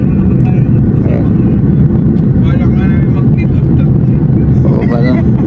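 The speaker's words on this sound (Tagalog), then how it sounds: "Bumaba na yung aeroplano, nakikita na yung lupa." Airplane descending to land on a flight into Hong Kong, heard from inside the cabin as a loud, steady engine roar and rumble that fills the whole stretch, with voices talking over it.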